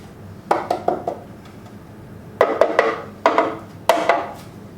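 A metal cake pan dusted with flour is tapped against a surface in short clustered knocks, two or three quick hits per group, close and crisp in a quiet kitchen.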